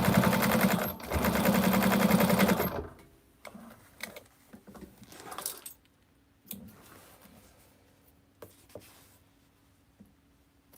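A sewing machine stitches a zipper placket in a fast steady whir for about three seconds, then stops, followed by quiet handling sounds and light clicks.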